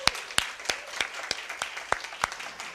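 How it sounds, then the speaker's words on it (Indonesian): A church congregation claps steadily in a hall during a Pentecost Sunday service, a sparse rhythmic applause of sharp repeated hand claps, fairly distant and moderately loud, with no talk over it. "mari kita berikan tepuk tangan buat gereja Tuhan sedunia"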